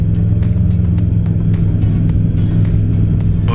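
Robin DR400 light aircraft engine heard from inside the cockpit as the throttle is advanced, a loud, steady droning rumble with constant propeller hum filling the cabin, no speech.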